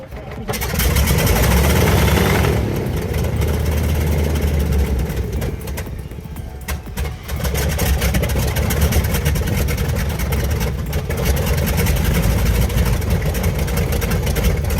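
A heavy 500-horsepower V-2-34 V12 diesel engine rumbles steadily at idle, a deep continuous drone that dips briefly midway before settling back, with faint talk underneath.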